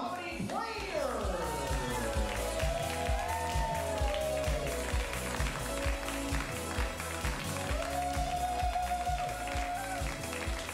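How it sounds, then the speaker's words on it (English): A comedy show crowd claps for a performer at an improvised comedy shootout, with applause and cheering under ongoing background music with a steady beat and some tonal melody. "Jealous round of applause for Joanna."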